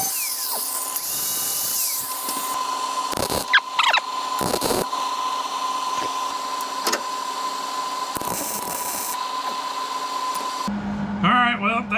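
Angle grinder working the sheet-metal floor of a C10 Squarebody truck: a steady high whine running throughout, with a few short harsher bursts of metal contact and some noise near the end.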